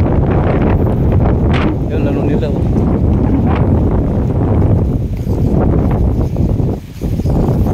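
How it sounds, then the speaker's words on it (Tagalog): Strong wind buffets the microphone in heavy, continuous gusts near the New Manila International Airport site, with a few brief words spoken underneath. "Lakas talaga ng hangin."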